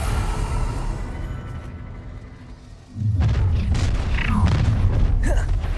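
A Bombarda spell detonates in Hogwarts Legacy, a deep boom landing partway through and leaving a loud rumbling wash of debris and crackle behind it.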